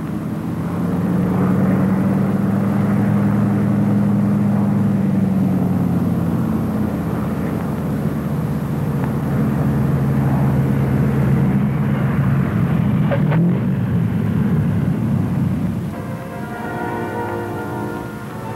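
A Lockheed P-38 twin-engine fighter in flight gives off a loud, steady engine drone that holds for the whole stretch, with the pitch shifting slightly and a brief rattle near the end.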